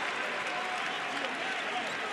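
A packed basketball arena crowd roars continuously at a college game between UTSA and Western Kentucky, a dense, loud wall of cheering with a commentator talking over it.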